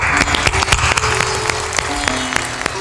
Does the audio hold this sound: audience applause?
yes